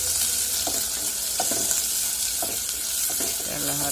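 Green chillies and chopped onion frying in oil for a Chattogram-style loitta fish bhuna, a dense continuous sizzle with a few soft stirring knocks, close up and without speech.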